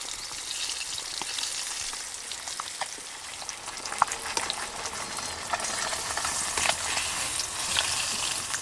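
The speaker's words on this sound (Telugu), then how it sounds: "చేప అయితే మంచిగా ఫ్రై అయింది" Bhuraka fish fries in reused oil with a continuous fine crackling sizzle, close but moderately quiet, with scattered sharp pops throughout.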